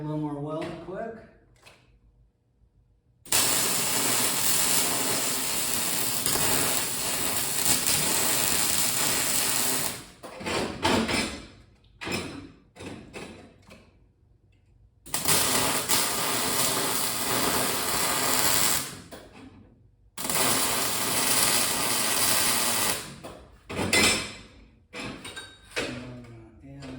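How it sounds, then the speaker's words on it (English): Welding on an old LP tank being made into a pumpkin: two long, loud stretches of steady buzzing arc noise, each broken by short crackling bursts and pauses. "We're going to add a little more weld quick."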